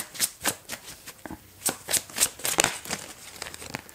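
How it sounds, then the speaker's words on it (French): Tarot cards are shuffled and drawn by hand, producing a run of soft, papery riffles and flicks at an uneven, fairly brisk rhythm, close and moderately quiet with no one talking. "je vais prendre une autre carte"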